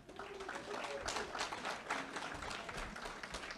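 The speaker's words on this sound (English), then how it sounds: "Let's give that video a big round of applause." Audience applause at an awards evening, steady scattered clapping from a crowd with some brief sharper claps, moderately loud throughout.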